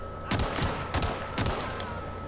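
Gunfire in the video game The Outer Worlds, with three sharp shots in quick succession, close and punchy, followed by a brief fading tail.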